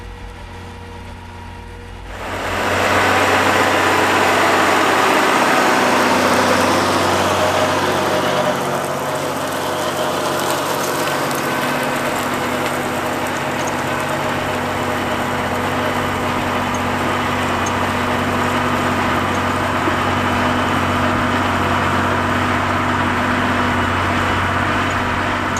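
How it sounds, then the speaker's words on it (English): A Ford 2715E engine in a 1971 tractor, a 120-horsepower four-wheel-drive model, starts up after about two seconds of quiet and then runs steadily and loudly, with a strong rumbling drone that holds on without talk. "This 121 uses the Ford 2715E engine producing 120 horsepower."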